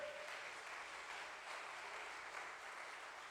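Steady clapping from a church congregation during a sermon, a continuous wash of applause at moderate distance, fairly faint, with no talking over it.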